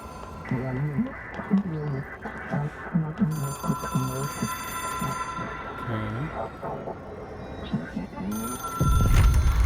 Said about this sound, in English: It is a phone.